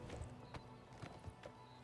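Quiet clip-clop of a horse's hooves in the video game Oblivion Remastered, several uneven steps at a walking pace, fairly close but soft, over a low ambient background.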